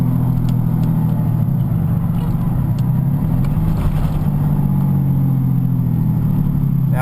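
A 6.2L Cummins diesel with exhaust brake engaged, a loud, steady low rumbling drone close by that dips and rises in pitch partway through, with no talk.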